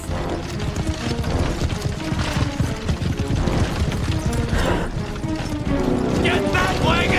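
Horses gallop hard while pulling a wagon, a dense, loud, continuous clatter of hooves and rumbling wheels. Shouting voices sound over the din.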